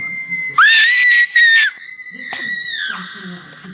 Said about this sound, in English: I could scream for longer than that.